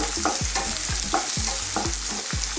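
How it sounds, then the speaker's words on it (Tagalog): Chopped onions sizzle in a hot oiled pan for Filipino chicken mami, with a steady frying hiss under rhythmic scraping stirs about every half second, close and alone. "igisayin na natin ito mga ilang segundo"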